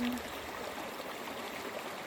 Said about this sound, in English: taking breaths, kind of focusing on the flow of the water